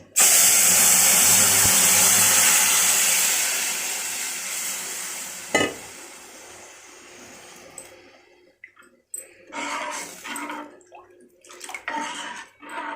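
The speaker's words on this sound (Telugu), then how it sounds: "సో పోపు ఇలా కొంచెం బ్రౌనిష్ రాగానే దీనిలో పోయేసేయడమే" Browned tempering of cumin and fenugreek is poured into an onion tamarind stew, giving a loud, hissing sizzle that swells, spikes briefly, then slowly dies away into scattered bubbling and faint kitchen noises.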